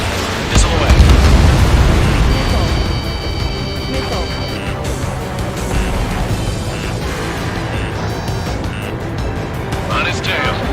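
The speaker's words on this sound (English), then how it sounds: "Missile away." Missile launch and explosions in the jet combat game Ace Combat 7, a heavy boom at the start followed by ongoing rumbling blasts and engine drone, with radio-style voices talking over the action.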